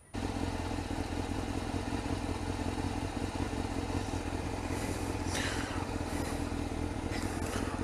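A Suzuki GSX-R 600 SRAD motorcycle just back from its MOT starts up and runs with a loud, steady, close engine rumble, with a brief rising rev and some mechanical clatter partway through.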